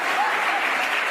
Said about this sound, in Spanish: Hasta aplaudieron.